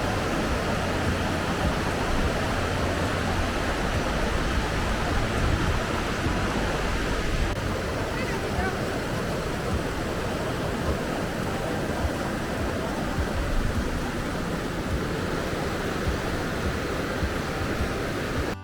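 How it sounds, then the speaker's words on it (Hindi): The Bhagirathi river flowing near a bridge on the way to Gangotri, a steady broadband rush of water that stays loud and constant with no break throughout. "भागीरथी नदी के बहने की आवाज मुझे नर्वस कर रही थी।"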